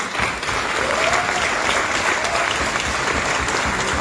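Audience applause fills a Modicare network-marketing event in a hotel ballroom, a steady dense wash of many hands clapping throughout, loud and continuous with no talk over it.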